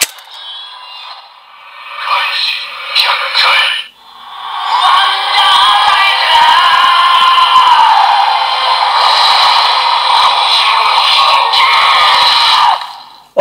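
DX Jikokuken Kaiji toy sword from Kamen Rider Saber with a Wonder Ridebook inserted, playing a loud electronic transformation sound: a short burst of tones, then a sustained bright synthetic fanfare with shouted voice effects lasting about nine seconds.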